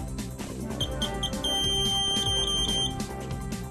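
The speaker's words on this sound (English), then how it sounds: "If an error occurs, LED and buzzer indications inform you of the type of error." The error buzzer of a CT-S2000 receipt printer sounds a short series of high electronic beeps, close and clear, over steady background music.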